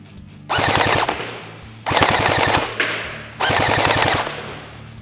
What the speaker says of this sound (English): I'm just going to keep firing about three bursts in full automatic